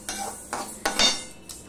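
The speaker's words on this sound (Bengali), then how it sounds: "এবার ডালগুলো আমি হালকা করে ভেজে নেব" Lentils being lightly dry-fried in a hot kadai for bhoger khichuri, with three or four quick scraping strokes of a spatula against the metal pan, close and distinct.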